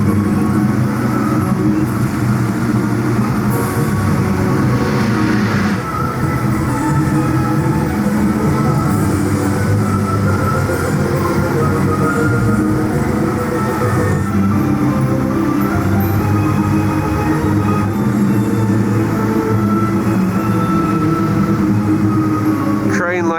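Jurassic World VelociCoaster roller coaster train on a test run at Universal Orlando, a steady rumbling roll of the train on track heard at a distance under continuous ambient noise, with people talking over it.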